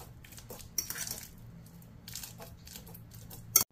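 A fork mashing banana into purée, soft irregular scrapes and taps against a bowl with a sharp clink near the end, faint and close with quiet pauses between strokes.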